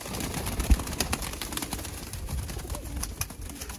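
Soft pigeon cooing and bird calls at a pigeon sale in Sialkot, a busy, noisy setting, with a brief loud thump near the start and steady background clatter.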